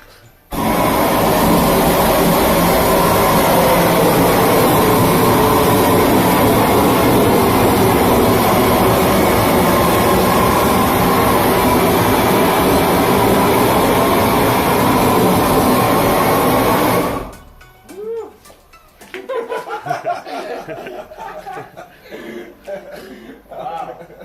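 A gas heater pushing about 5,000 BTUs roars against a SIPS wall panel: a loud, dense, continuous hiss of flame lasting roughly seventeen seconds, then cutting out abruptly to quieter clatter and voices.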